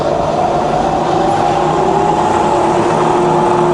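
A rebuilt Bridgeport milling machine with a 42-inch table runs in low range at about 50 RPM, giving off a steady, even mechanical hum with a faint tonal whine that holds unchanged throughout and has no talk over it.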